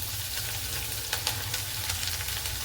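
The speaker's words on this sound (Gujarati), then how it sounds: "હવે આપણે લીલા મરચાં નાખવાનું." Green chillies drop into hot oil in a frying pan, setting off a steady, bright sizzle with a few small crackles and stirring scrapes partway through, close and continuous with no talk.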